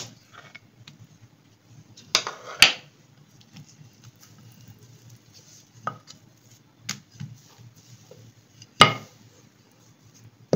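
A rolling pin working aloo paratha dough on a board in a home kitchen gives sparse, faint wooden knocks and taps, with a few sharper clacks, separated by near-silence.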